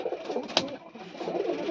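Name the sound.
pigeons cooing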